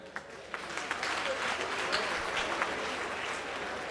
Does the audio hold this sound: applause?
yes